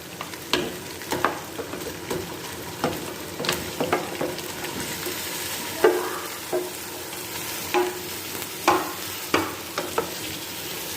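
Chicken pieces sizzle and fry in hot oil with ginger and garlic, a steady close crackle broken by repeated scraping and clinking as a spoon stirs the pan.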